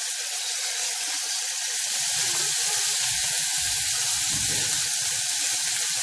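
Tomato added to frying onions in a pan while cooking a foxtail millet pulav, giving a steady loud hiss of sizzling with no voices.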